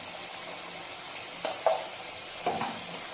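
Khichdi being stirred after four green chillies, a little ghee and garam masala go in, with faint sizzling and a few soft scraping strokes of a spoon in the pot.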